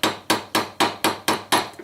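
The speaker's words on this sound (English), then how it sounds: "I'm using this side of the hammer, okay, to get that little area there go down." A hammer taps the bent tip of an old Victorinox Pioneer knife held in a vise, giving seven sharp metallic strikes in an even, close, unhurried rhythm with no talking.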